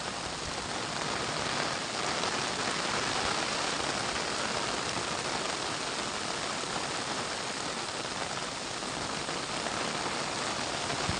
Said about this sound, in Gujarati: પાણી ભયંકર વરસાદ પડે છે